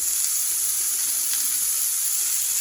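Butter melting into a hot pan beside a steak gives a steady, fairly loud hiss and sizzle with no pauses, alone and without voices.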